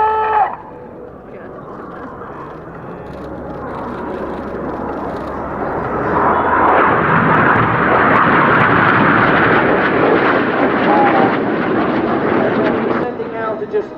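Red Arrows jets performing the Jippo break at an airshow at Leeuwarden Air Base, a broad roaring jet rush that swells from a steady drone to a loud, close pass lasting several seconds before easing off, with brief talk at the start.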